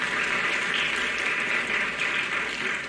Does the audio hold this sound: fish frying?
no